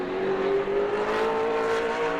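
A modified race car on a qualifying lap at New Smyrna Speedway roars past with a loud, steady engine note that climbs slightly as it goes, heard up close with no talk.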